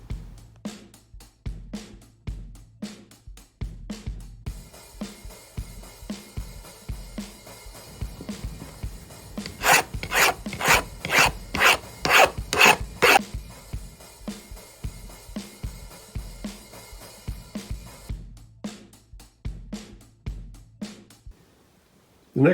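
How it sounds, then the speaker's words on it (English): Metal snow plow skid pieces for an Agri-Fab 48-inch plow being filed at the ends in a home workshop: about seven loud, evenly spaced rasping strokes in a quick burst, set between quieter clicks and handling noises. "After they're cut, I'll file down the ends to get rid of the sharp corners and"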